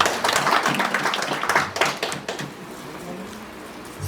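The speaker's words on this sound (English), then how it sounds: "Can you clap for them?" Audience clapping at a Rotary Club president installation ceremony, a dense burst of applause that thins and fades over a few seconds.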